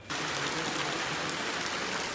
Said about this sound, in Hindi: बारिश काफ़ी तेज स्टार्ट हो गई है